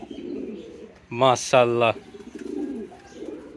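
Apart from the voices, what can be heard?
Bombay pigeons cooing and calling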